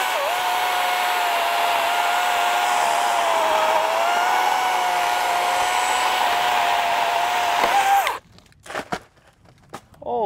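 DeWalt 20-volt battery chainsaw with a 16-inch bar cutting an undercut gives a loud, steady electric whine for about eight seconds, then cuts out, followed by scattered faint knocks and rustling.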